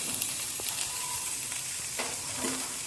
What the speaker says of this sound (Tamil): கத்திரிக்காயை எண்ணெய் விட்டு வதக்கிட்டேன்